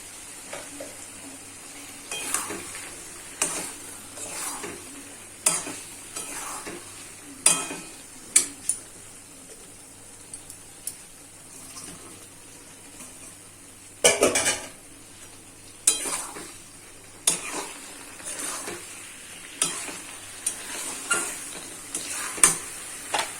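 Potatoes and pointed gourd fry in a pan, a steady low sizzle broken by repeated scraping stirs and clinks of a spoon against metal, close and fairly quiet, with no talking.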